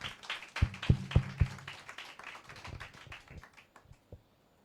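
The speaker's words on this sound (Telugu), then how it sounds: "మరి వాళ్ళిద్దరిని బట్టి మనం చప్పట్లు కొడదాం ఒకసారి." Hand clapping from a church congregation at a Sunday worship service, a few sharp claps rising into a short burst of applause that fades out over several seconds.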